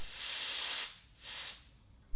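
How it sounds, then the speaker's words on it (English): Compressed air is blasted into a seized Nissin front brake caliper from a Honda CRM250AR to free its pistons. Two sharp, loud hissing bursts come in quick succession, the first longer, followed by quiet. "Here I'm using compressed air to try and release both brake pistons."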